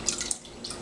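Water is poured into lemon juice for a soaking solution, a short bright splashing trickle with a few liquid blips, close and alone.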